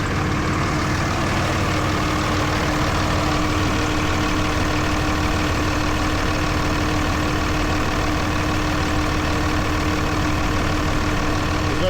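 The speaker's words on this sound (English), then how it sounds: "Let me know what you think about the sound of the running engine" A truck rig's engine idles after restoration work, a steady, dense, loud rumble with a constant hum, unbroken for the whole stretch and with no voices over it.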